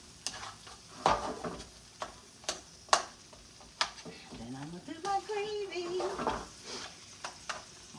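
Peppers and onions cook in a pan for smothered pork chops, with a faint sizzle under regular utensil taps and scrapes against the pan; a voice speaks briefly partway through.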